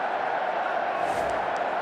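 A huge rugby crowd of over 81,000 at Twickenham for an Army versus Navy match gives off a steady, dense roar of massed voices from a distance, with faint cheering swells.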